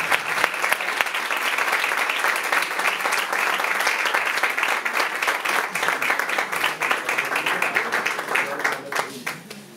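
A live audience at a tribute concert applauds the guitarist and singer with dense, sustained clapping that holds steady and loud for the whole stretch before tapering slightly toward the end.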